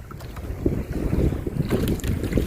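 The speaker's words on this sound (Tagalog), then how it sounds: "At papandar natin ang makina." A boat engine starting up at the outset of a fishing trip, a steady low mechanical rumble mixed with wind buffeting the microphone and water noise, continuous and close throughout.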